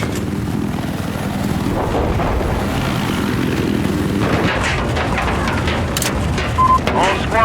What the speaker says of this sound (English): Have eyes on a hostile helicopter to your east.